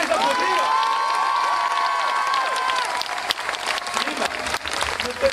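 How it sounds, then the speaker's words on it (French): Theatre audience clapping for a troupe at the close of a show, loud dense applause with some cheering, while a voice holds a tone over the top early on before the clapping thins into looser, scattered claps. "Et vous pouvez les applaudir."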